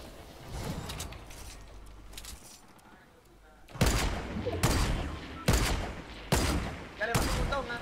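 Video game gunfire, a few scattered shots under quiet talk at first, then a string of loud, evenly spaced heavy blasts about once a second, close and punchy.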